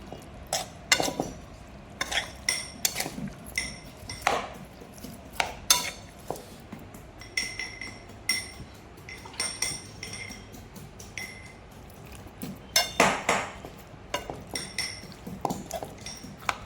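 A spoon works rock salt into food, giving repeated clinks and scrapes against the pot in an uneven rhythm, close by and fairly quiet.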